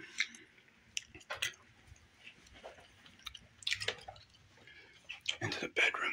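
Gum chewing with sweet watermelon gum: soft, wet, sticky smacks and squishes in irregular bursts, close and quiet, with no speech.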